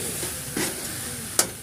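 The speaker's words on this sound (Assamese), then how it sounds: "এয়া মোৰ লাড়ুখিনি ভাজি আছে চম্পাই ভাজি আছে" Coconut laddoos fry in oil in a pan for Bhogali Bihu, with a soft continuous sizzle, a brief stir or clatter near the middle and a sharp spatter or scrape toward the end.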